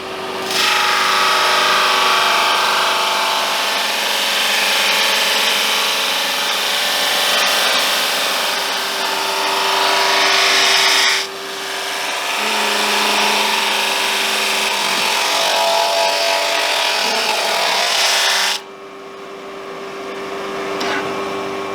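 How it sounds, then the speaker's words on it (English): A drum sander grinds a piece of wood in a workshop, a loud continuous abrasive roar lasting long stretches, with short dips as the board feeds through again before the machine falls quiet near the end. "Just going to put it through the drum sander a couple of times, both sides"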